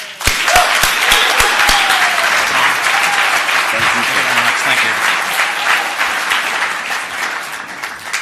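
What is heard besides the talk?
audience applause for the closing speaker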